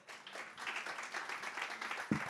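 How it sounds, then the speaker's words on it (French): Audience applause at a French panel discussion on recruiting careers, a steady patter of clapping from a modest crowd lasting a couple of seconds at moderate distance. "Jules, Stéphanie Laporte et Michel Mézeret, qu'on peut applaudir, s'il vous plaît, pour"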